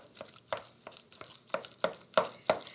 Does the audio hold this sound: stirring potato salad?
yes